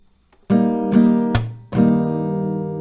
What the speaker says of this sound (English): 1 round of the strumming sounds like this